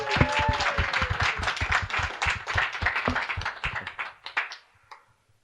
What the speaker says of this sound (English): So round of applause for Charlotte